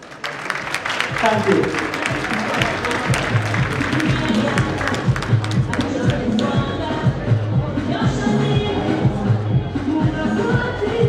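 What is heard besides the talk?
audience applause at women's day event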